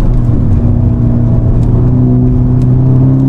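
A Honda Civic Type R FK8 with 316 bhp revving hard on a race track, its engine loud and close, climbing toward the limiter in a steady, rising drone with layered harmonic whine.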